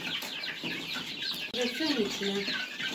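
Hens and chicks cluck repeatedly at close range, a busy flock with overlapping calls and a faint background murmur.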